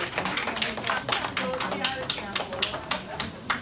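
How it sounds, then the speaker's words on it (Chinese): Audience applause at a talk on fatty acids, a dense patter of many hands clapping at moderate volume throughout, with a speaking voice over it. "大家给个掌声"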